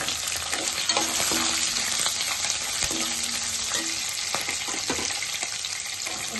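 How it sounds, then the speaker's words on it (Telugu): Cashews and chopped green chillies fry in hot oil with a continuous crackling sizzle, close and steady, broken by a few light stirring scrapes, with no voices. "జీడిపప్పు కూడా ఇలా గోల్డ్ కలర్లో వేగాక మనం కట్ చేసి పెట్టుకున్న పచ్చిమిర్చి"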